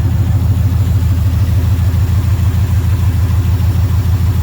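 A 1976 Ford Super Duty truck engine idles loud and close, a steady low rumbling throb that holds even and uninterrupted throughout.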